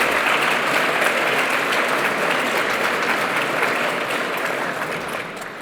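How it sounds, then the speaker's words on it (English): An audience at an opening ceremony gives a full round of applause, many hands clapping steadily and loudly, easing off slightly near the close. "I think you should give yourselves all a round of applause for being here today."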